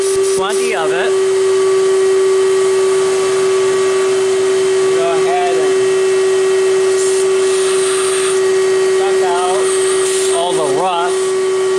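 Loud, steady vacuum suction during a diesel injector rebuild on a Mercedes 300SD, a constant whining drone with a strong tonal hum throughout while someone talks over it.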